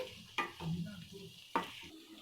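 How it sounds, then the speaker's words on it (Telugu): Chilli and onions frying in a pan, a soft steady sizzle broken by two sharp scrapes of a stirring utensil against the pan, with no one talking. "ఇప్పుడు మన ఈ చిల్లీ ఆనియన్స్ బాగా ఫ్రై కావాలి"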